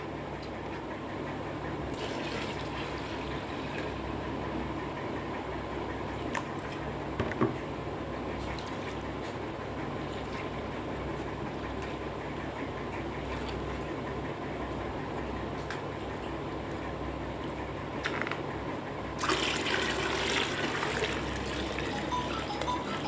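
Water is poured over green urad dal with its skins still on, washing the loosened husks away: a steady, even rush of liquid that runs on without a break and with no voices.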